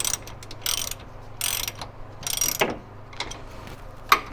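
Ratchet wrench tightening steering coupler bolts on a C3 Corvette, heard as several short bursts of rapid close clicking separated by pauses, with one sharp tap at the end.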